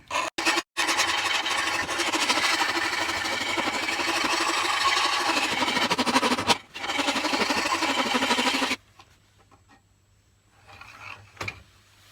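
A DIY knife-sharpening rig planes a piece of angle iron, a loud, harsh scraping and rasping that runs steadily for several seconds, breaks off briefly, resumes, then stops, leaving a faint hum and a few small knocks.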